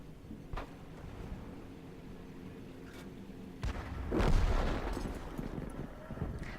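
The LEFH18B2 artillery piece fires in World of Tanks with a few distant thumps, then a heavier booming blast that rumbles and fades over a low engine drone.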